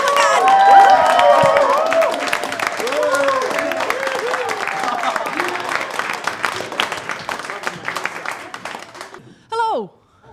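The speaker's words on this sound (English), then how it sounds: "Okay, so start the cheering." A comedy audience cheers and applauds as a comedian comes on stage, loud and sustained clapping with whoops and voices for about nine seconds before fading out, followed by a short spoken greeting.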